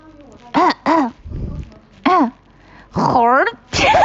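A voice imitates a peacock clearing its throat, making several loud, harsh, wavering honks in short bursts separated by rasping breaths.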